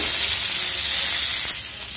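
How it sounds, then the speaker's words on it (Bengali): Radishes fry in a pan still hot from frying fish, giving a loud, steady, close sizzle and hiss that eases slightly toward the end. "মূলাগুলো ভাজি করে নিব।"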